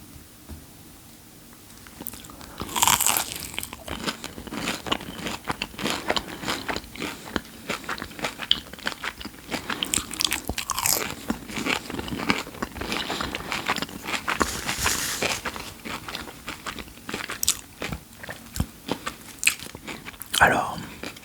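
Burger King burgers, onion rings and cheddar mac and cheese being eaten close to the mic, with wet bites and crunchy chewing in uneven bursts, plus some quiet handling.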